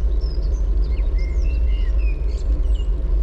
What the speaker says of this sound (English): A nice bird song.